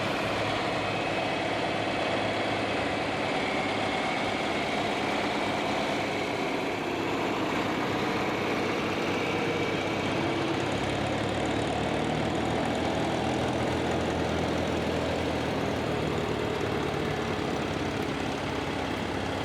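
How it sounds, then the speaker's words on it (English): A John Deere 4520 tractor with big duals rumbles steadily in a tractor parade in Dyersville, Iowa, a loud continuous low drone with broadband noise, rolling slowly nearby. "Here's another great looking tractor in this parade, and that is a John Deere 4520."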